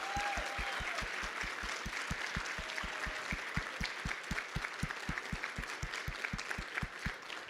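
A large symposium audience claps steadily, a dense wash of applause that continues evenly throughout, with a rhythmic low thumping underneath.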